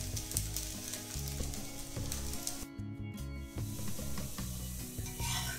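Oats and bajra dosa with semolina sizzles and fries steadily in oil on a hot pan, a close, continuous crackle with light scraping and stirring rubs running throughout.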